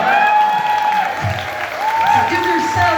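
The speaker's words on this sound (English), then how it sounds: "give yourselves a big round of applause" Dense, loud applause from an audience, sustained clapping with crowd noise and some voices mixed in throughout.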